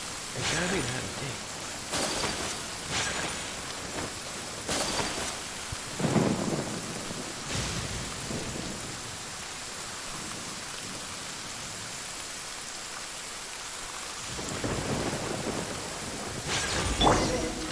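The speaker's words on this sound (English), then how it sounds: "Oh, snap, it's raining." Steady rain pours in Genshin Impact while rolls of thunder boom and rumble at intervals, several loud cracks standing out over the constant hiss of falling water.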